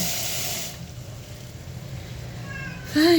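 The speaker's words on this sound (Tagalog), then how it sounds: "Miyaw ka ng miyaw" A cat gives a single short, loud, close meow at the end of the clip, after a stretch of quiet indoor room sound.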